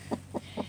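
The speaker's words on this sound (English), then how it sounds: "She's definitely making all the broody hen noises." A broody hen gives three low, throaty clucks at an even pace, each a short rounded burst, close and fairly quiet against a faint steady background hum.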